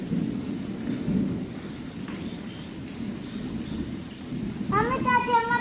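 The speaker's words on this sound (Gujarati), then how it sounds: "આજે વરસાદ આવ્યો છે" Heavy rain pours with low rumbling thunder throughout, a steady dense wash close by, and a voice briefly chimes in near the end.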